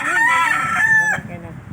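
A rooster crows once, loud and close, in a single drawn-out cock-a-doodle-doo that ends abruptly, followed by a brief low tail of background noise.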